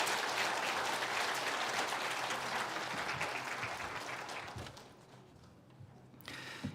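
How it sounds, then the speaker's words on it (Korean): A church congregation applauds in encouragement during a Sunday worship service. The clapping is dense and sustained, then thins and trails off near the end, followed by a brief rustle. "잘 다녀오라고 우리가 격려의 박수 드리겠습니다"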